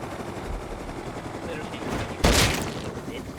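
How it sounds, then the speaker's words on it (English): Gunfire in the survival game Rust, a brief loud burst of shots over a steady background rumble, heard once near the end. "he started shooting at us first"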